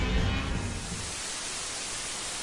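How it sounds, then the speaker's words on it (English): Approximately pure white noise, a steady broadband hiss that holds at an even level throughout, with no other sounds and no voices. "This is, at least approximately, pure white noise."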